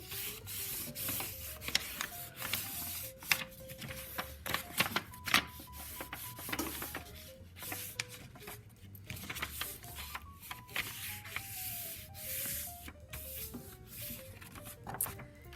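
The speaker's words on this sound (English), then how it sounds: "I'm going to take the paper and I'm going to crease it." Paper is creased along a board with repeated rubbing and scraping strokes, close and dry, in irregular bursts alongside a faint tonal background melody, with no talking.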